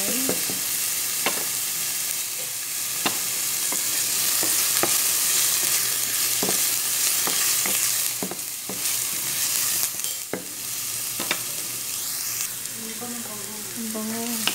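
Mixed vegetables sizzle in hot olive oil in a pan, a constant hiss punctuated by regular sharp taps and scrapes of a spoon stirring, with a voice speaking briefly toward the end.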